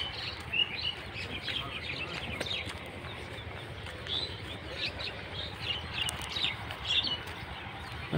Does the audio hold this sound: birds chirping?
yes